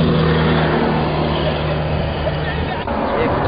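A car drives at the northern entrance of the town of Kharbet Ghazaleh in Daraa, its steady engine rumble and road noise loud and continuous, with a voice speaking over it.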